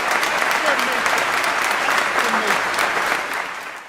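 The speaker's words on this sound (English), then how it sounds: "Tell you what, let's give them the applause. More applause." A steady, full round of audience applause at a remembrance event honouring First and Second World War heroes, loud and continuous before fading slightly at the end.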